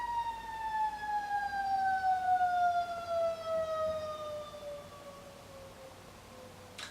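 An ambulance siren wails in one long tone that slowly sinks in pitch, moderately distant and heard alone against a quiet background.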